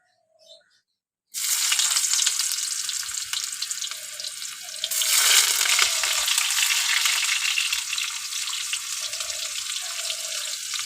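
Chopped onion hits hot white oil in a kadai and bursts into a loud, sudden sizzle after a moment of quiet, then keeps frying with a steady, close hiss and crackle.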